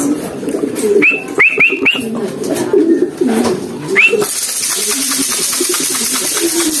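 Pigeons at morning feeding time, cooing softly near the microphone with several short rising calls, fluttering wing sounds and a steady background rush that grows stronger toward the end.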